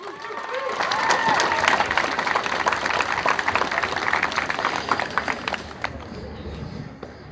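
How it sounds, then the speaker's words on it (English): Outdoor crowd at a downtown Fremont celebration parade applauds and cheers for the swim team, dense sustained clapping with scattered voices that holds steady for several seconds before thinning out near the end. "Let's give them a round of applause."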